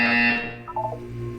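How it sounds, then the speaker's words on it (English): An alarm-like buzzer tone from a test chamber in the video game Portal 2 sounds loud and steady at first, then fades into softer wavering electronic tones, with no voices. "You will hear a buzzer."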